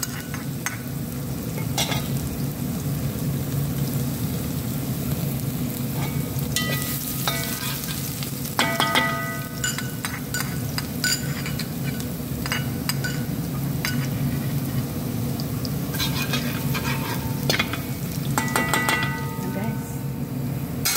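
Garlic frying in a pan makes a loud, constant sizzle with repeated scrapes and clinks of a utensil stirring against the metal, while a person talks intermittently over it.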